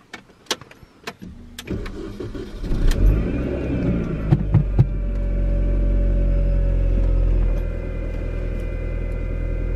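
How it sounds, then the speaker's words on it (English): A Mini's engine cranks after a few clicks, catches and settles into a steady idle with a thin supercharger whine riding over the low rumble, heard from inside the car with no talking. "so it's the supercharger that causes the whine"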